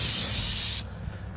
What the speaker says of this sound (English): We're gonna spray down the steel completely.